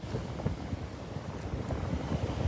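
Outdoor wind buffets the microphone in a steady, moderately loud low rumble with small gusty swells throughout, and no voices come through.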